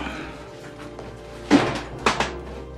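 A top desk drawer being pulled open and pushed shut, heard as two wooden knocks and slides about half a second apart, close and moderately loud, with no talking.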